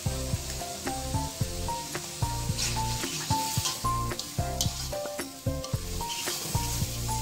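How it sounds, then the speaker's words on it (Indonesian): Bay leaves, lemongrass, galangal and shredded lime leaves sizzle steadily with spice paste in a pan for a tofu and green tomato curry, the hiss running continuously beneath prominent background music. "Masukkan sekalian daun salam, serai, lengkuas, dan daun jeruk disuwir-suwir seperti ini."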